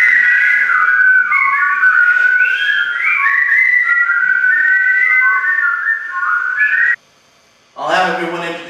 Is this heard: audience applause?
no